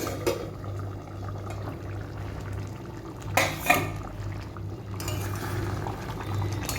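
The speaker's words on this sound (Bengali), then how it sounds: "ঢাকনাটা খুলছি।" The lid comes off a pot of gathi kochu with prawns that has been simmering covered over a low gas flame. Two sharp metallic clinks sound close together midway, over a quiet bubbling background.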